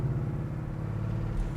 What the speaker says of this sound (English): I can't get over the way the exhaust sounds, man, I love it